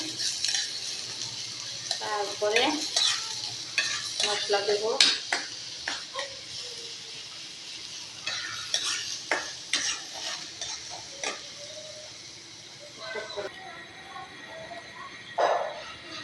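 Garlic fries in hot oil until reddish, stirred in a pan with repeated clinks and scrapes of a utensil over a low sizzle, while a person talks intermittently.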